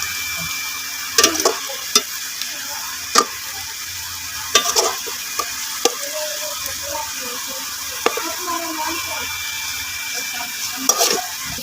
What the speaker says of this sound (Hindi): इधर प्याज देखिए हमारे ब्राउन होना शुरू हो गए हैं